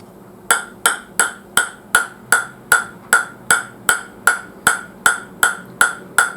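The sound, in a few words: ball bouncing on T-Mobile CAF base, sound test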